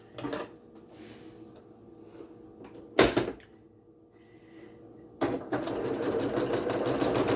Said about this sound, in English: I'm ready to stitch this one on the machine